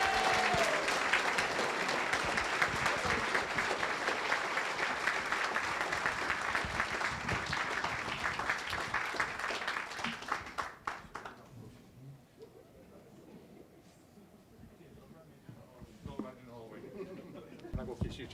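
Audience at an annual dinner claps warmly to welcome a mayor, a dense, steady round of applause that fades out after about ten seconds into a quiet room with faint stray sounds.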